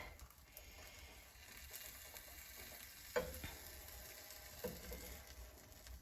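An omelette fries in a hot pan, a steady crackling sizzle running throughout, with a couple of brief sharper pops as it is pressed down with a utensil.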